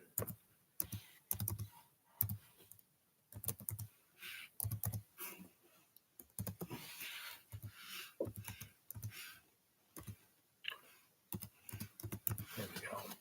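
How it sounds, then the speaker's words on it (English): Close, quiet computer keyboard typing comes in irregular clusters of sharp key clicks separated by brief gaps, steady throughout. "just typing this out."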